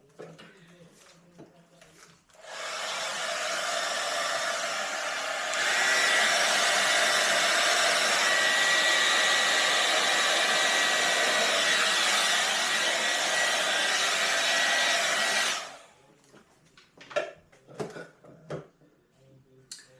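A blower or hair dryer pushes fluid art paint across a canvas, a loud, steady airy roar that runs about thirteen seconds, then cuts off to quiet handling sounds.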